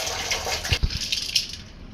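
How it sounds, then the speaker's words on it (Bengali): Hot water is poured into a pot of fried lentils, including mung dal, for khichuri, making a short, close splashing gush with a couple of sharper glugs before it fades. "ডালগুলো এখন গরম পানিতে দিয়ে দিচ্ছে"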